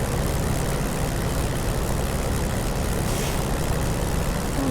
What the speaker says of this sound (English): you're hearing the gases being allowed to escape or to operate the brakes